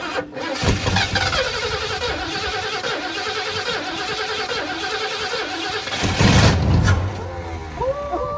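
An abandoned 1972 Ford F100 pickup engine cranks with a rhythmic starter churn, then briefly catches and fires with a louder roar before sputtering back toward cranking, heard up close with people talking nearby.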